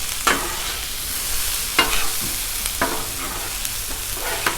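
Potatoes fry in oil on a Blackstone griddle, a loud continuous sizzle broken by several scraping, tossing strokes of a spatula.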